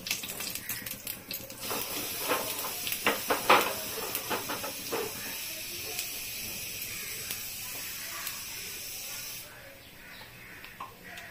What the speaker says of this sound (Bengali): এই অবস্থা আমি কালো জিরা দিচ্ছি